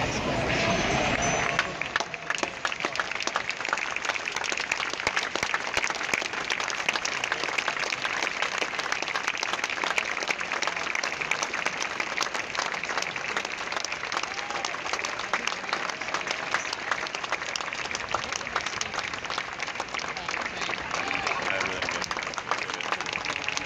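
Sustained audience applause fills a baseball stadium, steady and dense for over twenty seconds, with crowd murmur mixed beneath the clapping.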